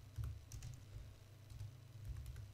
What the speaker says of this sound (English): what we're going to type here